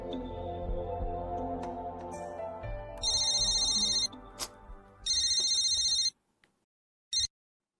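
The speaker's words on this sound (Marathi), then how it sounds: "फोन लावा मायराला." A telephone rings during an outgoing call in an office, two loud electronic ring bursts about a second long separated by a short gap, following a fading background music bed, then near silence.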